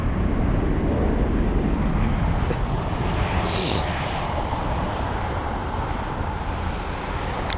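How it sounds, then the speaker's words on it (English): A Lufthansa Airbus A320neo in special livery at London Heathrow, heard as a broad, fairly loud rumble that thins slightly over its few seconds, punctuated by a short high hiss near the middle. "that was flight number LH908 for the Lufthansa A320neo, featuring the special Lufthansa livery"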